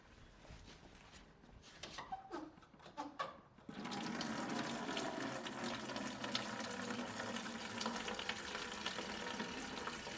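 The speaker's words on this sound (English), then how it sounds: "I'm gonna unplug this and then shoot the fluid straight into my bucket to minimize the mess I make" Coolant draining from a 2004 Mustang Cobra radiator hose into a bucket: a few faint knocks and clicks, then a sudden steady rushing gush of fluid that continues loudly to the end.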